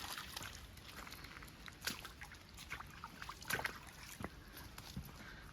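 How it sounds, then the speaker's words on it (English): A very shallow babbling brook in a Cornish woodland in midsummer trickles and sloshes faintly, with soft irregular splashes and gurgles over a quiet steady background. "the river now is just a very shallow little babbling brook"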